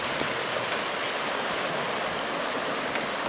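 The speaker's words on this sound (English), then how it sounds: "natural hot spring on the Rio Grande." Water flows steadily at a natural hot spring on the Rio Grande, a continuous, even rush and gurgle close by with no voices.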